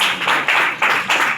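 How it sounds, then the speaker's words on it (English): An audience at a sports awards ceremony claps in short rhythmic bursts, a brief loud burst of applause with regular pulsing beats and no voices. "Give them a round of applause."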